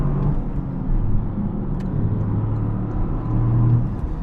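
Steady low road rumble and engine drone inside a Toyota GR Corolla, a 1.6-liter 300 hp all-wheel-drive hatchback, cruising on a highway, continuous and even with slight swells, no talking.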